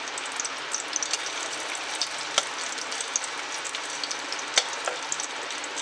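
Crushed garlic fries in hot oil in a pan, making a bright, steady sizzle with intermittent sharper crackles and pops, close up and with no voices.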